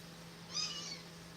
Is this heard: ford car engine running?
no